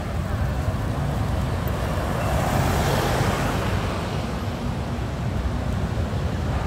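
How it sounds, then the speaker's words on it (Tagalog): Steady city traffic on Ledesma Street in Iloilo City during a storm, a dense continuous wash of passing cars and engines with rain-like hiss, fairly close and even throughout, no distinct horns or voices. "Marami pa rin sasakyan, no?"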